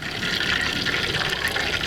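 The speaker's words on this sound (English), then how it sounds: "That oil will drip down." Hot frying oil drips and trickles from a deep-fried turkey held over a pot, a steady close hiss of liquid running continuously with no talking.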